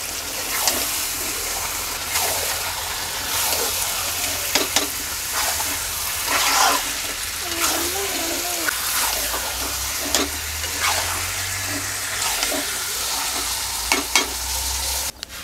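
Broiler chicken fries in a spice masala for dopeyaza, with continuous sizzling and repeated scraping stir strokes close by, plus occasional clinks and a low background hum.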